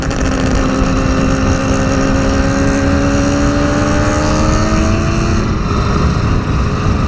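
Allen Millyard's custom Kawasaki 350 Four two-stroke motorcycle engine screams at high revs on the road, a loud buzzing wail rising in pitch over several seconds, with wind rush throughout.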